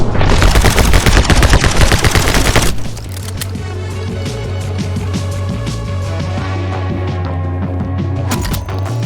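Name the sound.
gunfire from guns in the video game My Friend Pedro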